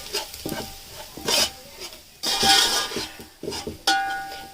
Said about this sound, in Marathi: सुकं खोबरं, लसूण, आलं आणि कोथिंबीर. सुकं खोबरं तेल सुटले का छान.